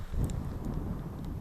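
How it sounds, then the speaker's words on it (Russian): Wind gusts over a frozen taiga lake in heavy snowfall, a continuous low buffeting roar with rumbling microphone wind noise throughout, no voices. "ветер тут вихри закручивает"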